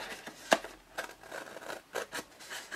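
Scissors snip through paper while a flat-topped box is cut out, a few sharp close cuts and soft scraping rustles in an irregular rhythm.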